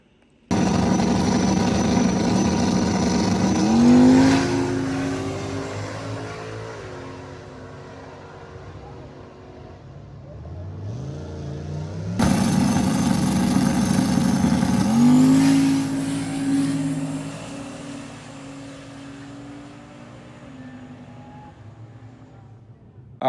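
A car accelerates hard down a drag strip in two roaring runs, each engine note climbing through the revs and dropping at a gear change, loud and close with a pause between passes.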